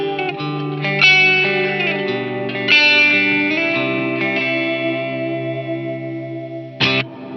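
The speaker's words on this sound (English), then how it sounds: "So here's the glitz on its own." An electric guitar plays through a Glitz ambient reverb on a Line 6 HX Stomp, with sustained chords washing into long shimmering tails, a few strummed accents and a final sharp strum, without any talk.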